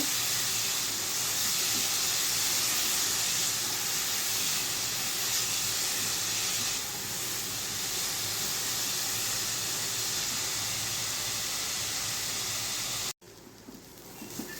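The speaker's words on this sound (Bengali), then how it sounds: "এটাকে একটু ভেজে নিব লাল লাল করে একটু ভেজে নিতে হবে" Milk and sugar fry in a pan for a Gopal laddu sweet, giving a loud, continuous broadband hiss and sizzle. The sound holds for about thirteen seconds, then abruptly drops to a much quieter background.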